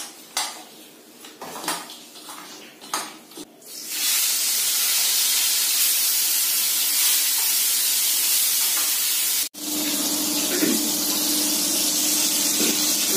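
Marinated fish sliding into hot oil, with a few clanks of utensils and pans first, then a loud, continuous hissing sizzle that briefly cuts out before resuming.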